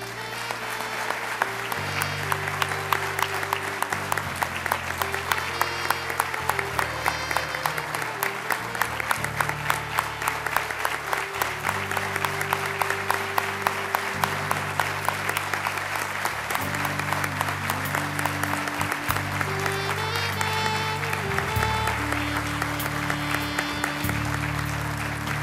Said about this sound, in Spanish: Acompañamos, por favor, con un fuerte aplauso